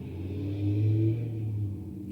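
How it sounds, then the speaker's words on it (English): A car drives by on a noisy street, a low engine rumble that swells to a peak and then fades as it passes. "Waiting for the car to go by."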